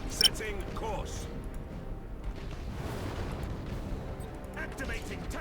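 Heavy cannon fire from warships in the space strategy game Battlefleet Gothic: Armada, a dense rumbling barrage of booms under a voice talking, with a sharp hit near the start.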